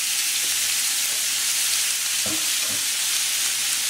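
Garlic, black pepper, green onions and a pinch of salt frying in a pan, giving a steady, even hiss with a couple of soft stirring knocks partway through. No one speaks.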